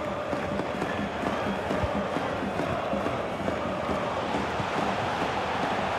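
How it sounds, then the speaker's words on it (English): Football stadium crowd at a Champions League group-stage match, a dense continuous roar of jeering and shouting aimed at the referee, steady and loud throughout with no clear pauses. "the ref will hear the crowd all right"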